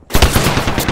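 Rapid automatic gunfire in a video game rattles loud and close in a dense continuous burst, with no talk over it.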